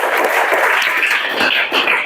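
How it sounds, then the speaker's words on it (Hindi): A roomful of students applauds in a short, even burst of close clapping. "ताली बजाओ भाई।"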